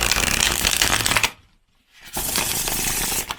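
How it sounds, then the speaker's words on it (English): A deck of stiff, thick-cardstock US Games tarot-style cards being shuffled: two loud riffling bursts split by a brief silent pause, close up and with no talking. "Let's give it a shuffle."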